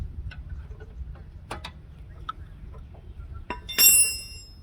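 Brake caliper bolts come off the rear brakes of a 2010–2016 Nissan Altima S 2.5L: sparse metallic ticks, clicks and a ratchet-like burst near the end, close up and fairly quiet, no talking.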